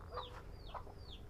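Chickens, a mix of native birds, Buff Orpington and Dekalb Brown, give soft clucks in a backyard coop; two or three short calls come faint and fairly distant over a low background rumble.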